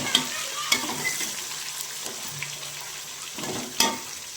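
Curry leaves crackle and sizzle in hot oil for a chicken biryani, a steady frying hiss with a few sharp pops and stirring clatters, close and fairly quiet with no talk.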